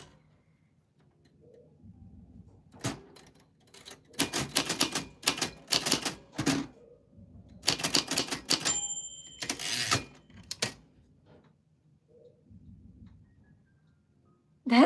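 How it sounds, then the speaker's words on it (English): Bursts of rapid mechanical typing clatter in several close, loud flurries, separated by short pauses, with a soft low cooing in the quiet gaps. "I'm going to do some typity typing."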